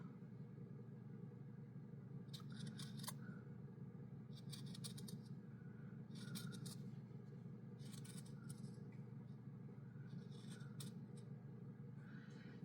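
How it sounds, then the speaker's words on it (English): Scissors snip around sewn scrappy fabric heart ornaments in short clustered bursts of cutting, repeated every couple of seconds, close and fairly quiet over a steady low engine-like hum. "I'm just going to take my scissors and I'm going to trim around."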